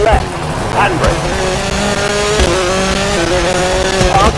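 A Mini Cooper Countryman WRC rally car in the WRC 4 video game, tackling hairpin stages in Sardegna, Italy, with a loud steady engine drone, revs rising and falling, and tires scrabbling, under a co-driver's continuous pace-note calls.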